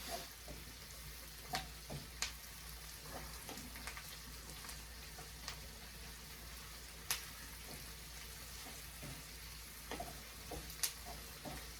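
A soft, steady sizzle of yellow onions frying in a pan, with occasional faint ticks and pops, quiet and continuous.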